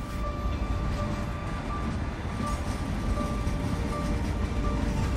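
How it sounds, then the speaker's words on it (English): A train leaving Brussels runs along the rails, a steady loud rumble of wheels and carriage noise with faint tonal whines riding on top, continuous and close as if heard from inside. "The train left Brussels."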